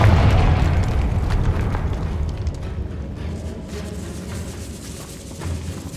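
A Confringo blast spell goes off in a decayed catacomb in Hogwarts Legacy, a loud booming explosion that rumbles at the start and decays into a sustained low roar across the whole stretch.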